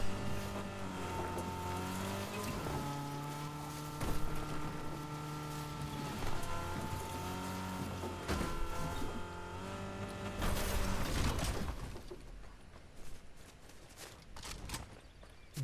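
Car engine in the video game Fortnite, a steady loud droning hum with shifting pitch as it drives and revs, a rougher burst near the end as the vehicle is ditched.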